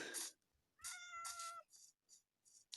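Cat meowing in Minecraft, several distinct meows spaced across the moment, one long drawn-out call followed by shorter ones, fairly clear against a quiet game background.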